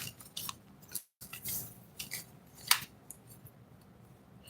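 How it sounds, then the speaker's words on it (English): Tarot cards being shuffled by hand, a quiet run of crisp riffling and snapping bursts, close and soft, with no talk. "Let me just get these cards shuffled up."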